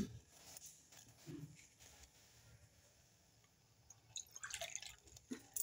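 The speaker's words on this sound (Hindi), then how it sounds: "इसमें डालेंगे पानी" Water is poured into a pan set on a gas stove for jaggery tea, coming as soft scattered drips and splashes with quiet gaps, then a brief busier trickle near the end.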